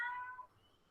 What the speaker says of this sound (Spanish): Ese gato parece que quiere llamar mucho la atención.